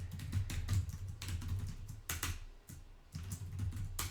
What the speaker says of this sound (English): Here, I'll type that in the chat.